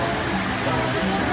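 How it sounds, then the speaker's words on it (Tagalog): Strong rushing stream water on Samar in the Philippines, swollen and yellowish after rain, gives a steady, loud, broadband roar throughout the short stretch. "Lakas ng tubig, oh."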